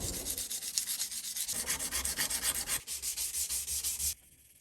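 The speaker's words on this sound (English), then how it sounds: "So I'll just fix that with some sandpaper and I'll get up to a nice shine." A handmade knife is sanded with sandpaper toward a shine, giving steady rhythmic rasping strokes up close, with brief pauses between passes, before the scraping stops abruptly near the end.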